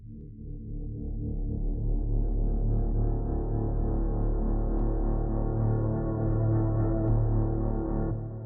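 A metallic tone pitched far down and drenched in reverb, swelling into a deep, sustained droning hum that holds steady and slowly fades near the end, heard alone.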